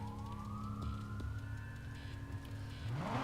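A police siren in the video game Watch Dogs wails steadily with a rising and falling tone over rumbling engine and traffic noise, loud and close.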